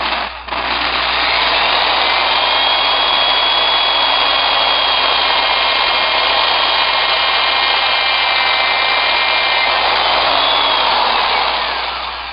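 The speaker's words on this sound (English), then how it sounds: "Just take my time, kind of drilling kind of slowly there." Steady whining drone of a power drill boring with a 13/16 drill bit through part of a clone armor detonator prop, held slow and even for about twelve seconds, loud and close.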